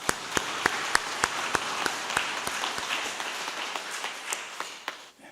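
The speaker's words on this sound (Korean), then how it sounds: "우리 응원하는 마음과 축복하는 마음으로 한번 박수를 칩시다." Korean church congregation clapping together during a Sunday worship service, a steady rhythm of sharp claps that builds into a dense wash of applause and then fades out.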